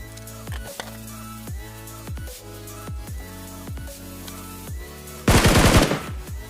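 Rapid gunfire in a video game shooter: several quick bursts of shots at a steady rhythm, then a loud, dense volley near the end, with no talking.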